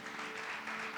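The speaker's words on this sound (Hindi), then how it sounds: "प्रभु के लिए ताली बजाएंगे" A church congregation claps together for the Lord during a Hindi sermon, a dense, steady burst of many hands applauding for about a second with no talking over it.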